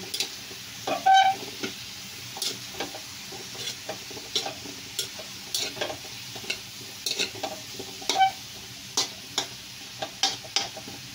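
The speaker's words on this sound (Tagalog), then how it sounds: "Haluin natin." Chicken soup with carrots and chayote is stirred in a pot over a steady low sizzle, with soft scrapes and clinks of the utensil against the pot, irregular and close, with no talking.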